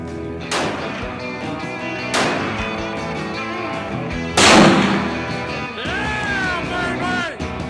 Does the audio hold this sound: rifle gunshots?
yes